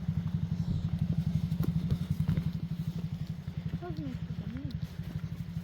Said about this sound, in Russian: О, целый клуб байкеров.